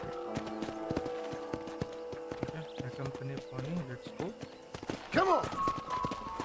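In a Red Dead Redemption ranch tour, a horse's hooves clip-clop in a steady walking rhythm close by, with a brief whinny near the end while someone talks over it.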